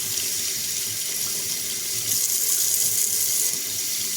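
Running water rinses a puppy during its first bath, a steady close rush from a tap or sprayer continuing throughout without pause.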